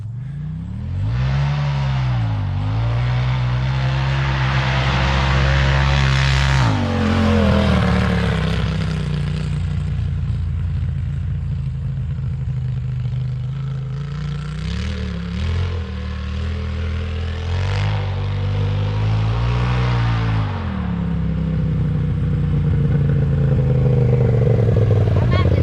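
A Polaris RZR side-by-side engine revs up and down repeatedly during a clutch RPM test of a CVT belt setup with a stiffer spring, a loud, close, droning whine rising and falling in pitch with several throttle blips.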